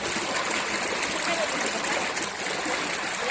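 Spring water from a mountain spring runs in a steady, close rushing wash, unbroken for the whole stretch with no voices over it.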